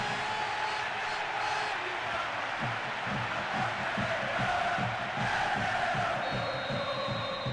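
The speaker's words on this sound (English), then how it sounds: "most of the crowd not happy about that goal" A football stadium crowd in a PES match roars steadily after a goal, a dense sustained wash of voices with chanting pulses and scattered whistles, loud throughout.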